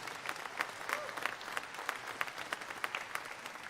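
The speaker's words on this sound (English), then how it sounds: "let's give a round of applause for all our auctioneers" Audience at the Ohio State Fair livestock auction applauding the auctioneers, a dense crowd of hands clapping steadily with scattered sharp claps, fairly distant and even throughout.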